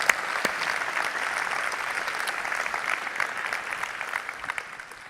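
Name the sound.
audience applause for the band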